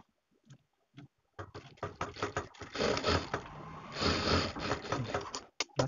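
A sewing machine stitches a frock's fabric in rapid mechanical bursts, starting with a few short taps, then running in a loud, steady whir before stopping with brief clicks.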